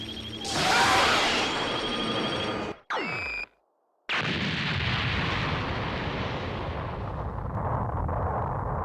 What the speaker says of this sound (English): Have a taste of Super Vegeta's Big Bang Attack!